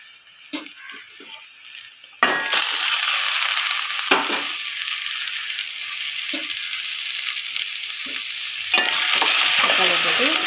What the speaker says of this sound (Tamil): அது கூட பச்சை மிளகா போட்டு கொஞ்சமாக கிண்டி விட்டுட்டு